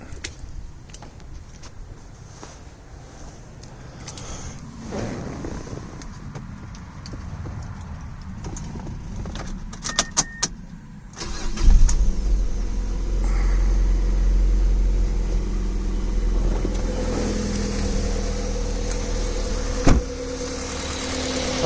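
A Mazda NC Miata with a swapped-in 2.5 engine, just hosed down with water, cranks with clicks and clatter, then fires up into a steady, loud idle with a deep, even rumble.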